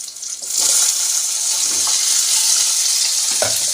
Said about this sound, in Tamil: நம்ம தக்காளி சேர்த்துக்கிடுவோம்.